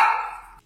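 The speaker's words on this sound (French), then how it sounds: "Excusez-moi pour le chien" A single sharp dog bark, loud and close, trailing off quickly into silence.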